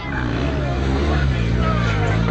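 A motorcycle engine runs at an extreme moto stunt show, a loud sustained drone with shifting revs, backed by crowd noise and a voice talking over it.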